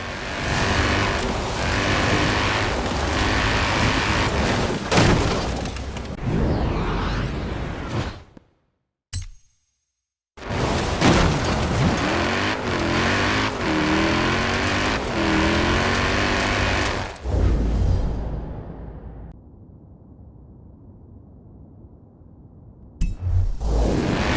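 A loud, rough rally car engine from Forza Horizon 4, a Mini, roars continuously with rattling and clinking, cuts out briefly to near silence, then returns before dropping to a low hum.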